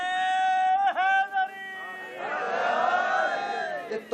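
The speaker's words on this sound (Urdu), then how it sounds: "یہ تواڈے نعرے نے مینوں حدیث پوری نہیں پڑھن دیتی۔" A crowd chants religious slogans in loud, swelling unison during a religious speech, rising after a short stretch of a single voice and filling the rest of the clip as a dense, reverberant roar.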